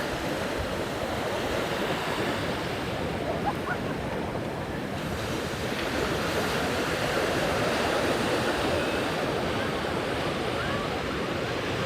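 Atlantic ocean surf breaking on Falésia beach in the Algarve near Vilamoura, a steady loud roar of rough waves mixed with wind buffeting the microphone, without a break and with no voices.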